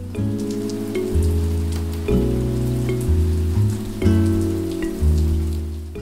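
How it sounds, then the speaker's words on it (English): Rain pours steadily in the video game Anime Studio Simulator, a continuous patter over a loud background of sustained musical tones, no voices. "A few drops of rain soon lead to a downpour."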